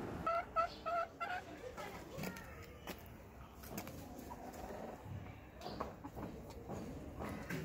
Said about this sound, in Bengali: এরপরে মুরগিগুলো দেখাচ্ছি